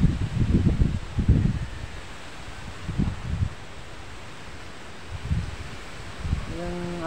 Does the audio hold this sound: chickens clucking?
no